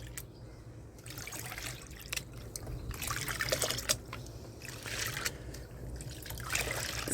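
Murky, silty water trickles and splashes while paydirt is panned, arriving in soft irregular bursts of dribbling and pouring close by, with no voices over it.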